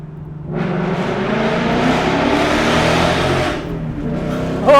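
A car fitted with a Corsa Extreme active valve exhaust revs hard and loud, the engine note climbing and holding through a sustained pull before easing off, heard close and alone without talk.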